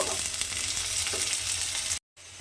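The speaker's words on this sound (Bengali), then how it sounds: "বেশ লাল লাল করে পেঁয়াজটাকে আমি প্রথমে একটু ভেজে নেব" Chopped onions fry in hot oil for a mung dal recipe, giving a steady, dense sizzle with light stirring scrapes, close and even. The sound cuts out briefly near the end, then returns.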